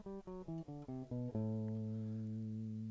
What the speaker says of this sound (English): that's A Dorian because you're starting from a different note